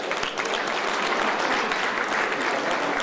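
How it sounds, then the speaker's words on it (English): An audience at an Indian Republic Day celebration and mela claps in sustained, dense applause that stays loud and even throughout. "they deserve a great round of applause"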